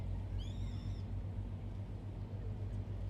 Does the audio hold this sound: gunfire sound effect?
no